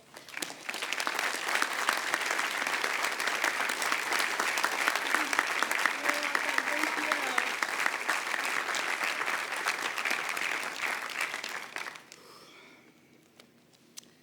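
A commencement crowd at Johns Hopkins University claps in sustained, even applause for the speaker, a dense wash of hands lasting about twelve seconds before tapering off abruptly.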